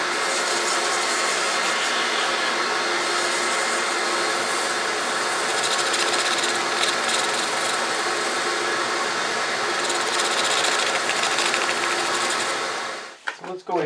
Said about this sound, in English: So I sand through all the grits.